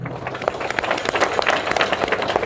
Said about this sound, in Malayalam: ബുദ്ധിമുട്ടില്ലാത്തവർ കൈയടിക്കും.